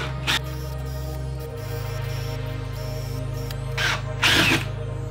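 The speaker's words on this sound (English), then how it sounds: "Once the center drill bit gets through to the other side, you're gonna wanna switch sides" A hole saw grinds steadily through a slab door, its deep motor drone droning on, with a few brief scraping bursts near the end.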